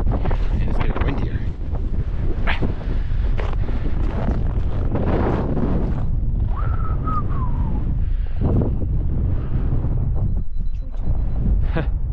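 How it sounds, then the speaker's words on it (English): Strong wind on the summit of Ha Ling Peak in Kananaskis Country roars and buffets a microphone without letup, a loud and rumbling gust noise that fills the whole stretch, with faint voices underneath at moments. "it's quite windy right now. Quite windy."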